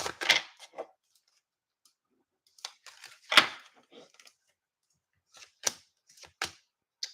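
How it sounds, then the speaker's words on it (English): A deck of cards is shuffled in short, crisp bursts of riffling and snapping, separated by brief silent pauses, close and clear with no talking. "Let me shuffle a little bit more."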